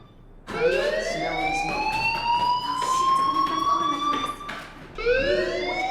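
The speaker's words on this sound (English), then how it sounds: "Hey, do you hear that fire alarm?" A fire alarm wails in the video game Life is Strange, a loud rising electronic siren tone that sustains for several seconds, breaks off briefly, then starts again.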